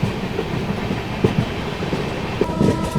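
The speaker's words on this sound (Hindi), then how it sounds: "ट्रेन अपनी पहुँच रही है ज्ञानपुर रोड" Lichchavi Express passenger train running on rails, a steady close rumble of wheels and carriages with rhythmic clickety-clack beats at regular intervals and no talk.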